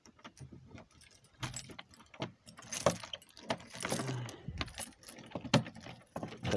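A bunch of keys jangles and clinks up close in irregular bursts while someone searches for the door key to a construction trailer, with a few scraping handling sounds and no speech.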